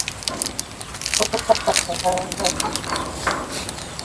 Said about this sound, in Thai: ไก่เป็นสาว